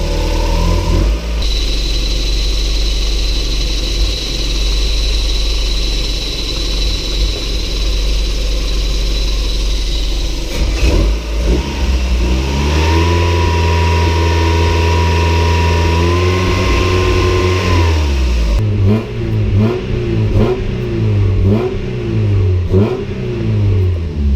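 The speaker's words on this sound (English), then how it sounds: "It's idling a lot better now." A modified Mazda Miata engine runs near and loud, idling steadily, then the pitch rises and holds with revving before settling back into a rougher, pulsing idle; a cooling fan may join.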